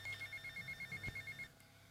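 A telephone rings in the video game GTA Vice City, a rapid trilling bell pulsing in quick regular bursts for about one and a half seconds, fairly faint, then stopping.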